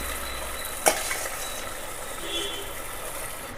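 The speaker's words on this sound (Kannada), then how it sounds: "ಈಗ ಬೇಯಿಸಿಟ್ಟತ್ತ ಬಟಾಣಿನ ಇದಕ್ಕೆ ಹಾಕ್ಕೊಳ್ಬೇಕು" Boiled peas tipped into a pan of urad dal gasi and stirred, a steady sizzle with one sharp clank of a utensil near the start and soft scraping after, no talk.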